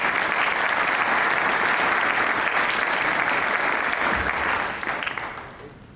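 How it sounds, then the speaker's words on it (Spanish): Warm applause rises from the audience at a formal civic event in Mexico as an official is introduced. Dense, sustained clapping holds at full strength for several seconds, then tapers off toward the end. "Démosle un aplauso a su fuerte amables."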